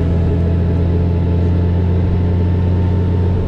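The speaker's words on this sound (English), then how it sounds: "Here I am, lo and behold, I'm riding a gold wing." Honda Gold Wing motorcycle engine droning steadily at cruising speed, a close, constant low hum with wind rumble and no pauses throughout.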